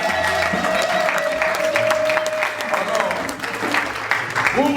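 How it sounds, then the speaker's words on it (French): Wedding guests applaud and cheer loudly and steadily throughout, a dense crowd of clapping hands with shouts mixed in, and voices calling out over the din. "Acclamez très fort."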